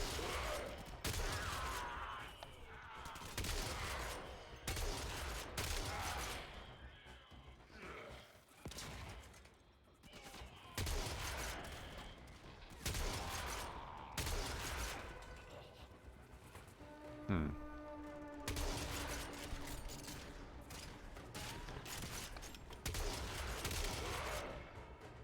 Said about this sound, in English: these are the shots for these guns